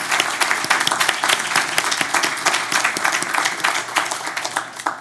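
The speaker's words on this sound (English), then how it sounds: "A round of applause for you." Audience applause for a speaker at an LGBTQ+ sports activism talk, a dense sustained round of clapping from many hands, loud and steady for the whole stretch, no talk over it.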